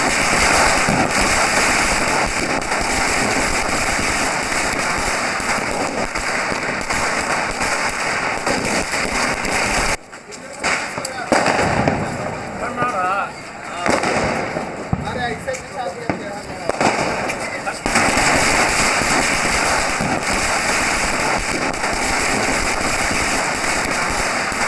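Dense crackling bursts of firecrackers and fireworks fill the air in Patna during a celebration, loud and nearly continuous, easing briefly midway before the barrage resumes.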